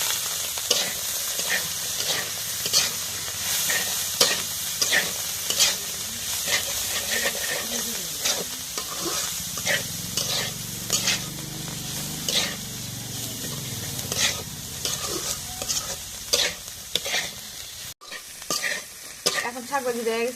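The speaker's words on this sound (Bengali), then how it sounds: "এখন শাক ভাজি দেওয়া গেছে" Leafy greens frying in oil with onion and garlic in a pan, stirred: a steady close sizzle and hiss with repeated scraping strokes of the stirring utensil, some steam and a clatter near the end.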